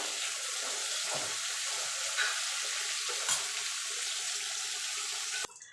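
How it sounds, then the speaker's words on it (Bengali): Eggplant slices frying in oil give off a continuous hissing sizzle with occasional soft stirring knocks, cutting off abruptly near the end. "বেগুনটা ভেজে তুলে নেব।"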